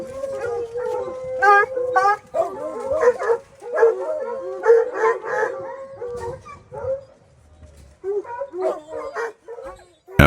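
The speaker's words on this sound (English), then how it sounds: "After spending much of the day rigging and free casting the hounds, JR's dogs struck a bear and we released them." Hunting hounds in the West Virginia woods bay and howl after striking a black bear, several dogs giving long drawn-out howls and choppy barks in overlapping bursts at moderate distance, with brief quieter gaps.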